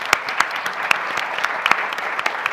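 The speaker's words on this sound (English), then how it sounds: "Let's give them a round of applause." An audience at a policy panel event claps steadily in a dense, continuous patter of many hands, moderately close, with no one talking.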